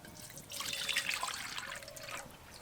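Water, about two and a half mugfuls, splashes into a pot set up for boiling ash gourd, a brief close gushing pour with no talking.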